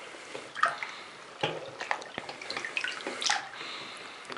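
An iPhone 5 sealed in a JOTO universal waterproof case bag sits submerged in a water-filled sink, giving muffled underwater sloshing with scattered drips and small splashes throughout, close and fairly quiet.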